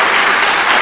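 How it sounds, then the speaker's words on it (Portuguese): A congregation claps together at a church worship service, a dense, steady wash of applause filling the space at a loud, even level with no talking over it. "Dê uma salva de palmas ao Senhor."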